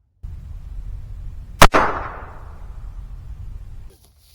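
A single sharp flare gun shot while hunting outdoors, a loud crack followed by a long fading hiss and rumble, then sudden silence.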